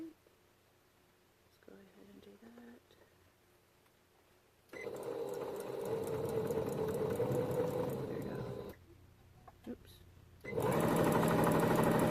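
A sewing machine runs in two bursts, a fast continuous rattling whir, stopping in between with a short quiet gap and faint handling sounds.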